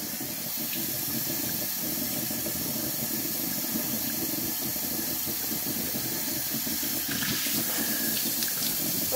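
Water runs steadily from a tap while hair is rinsed of soap, a continuous close hiss and splash with no talking.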